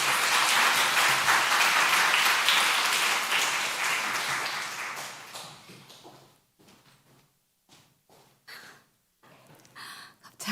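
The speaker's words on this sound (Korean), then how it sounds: "박수로 환영해 주십시오." A church congregation claps in a dense, sustained round of applause that fades out after several seconds, followed by a few quiet sounds and a voice.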